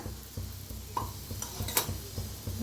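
Oil sizzles under a puran poli frying on a pan, a soft continuous crackle with occasional scrapes and stirring clinks of a utensil, close by and without speech.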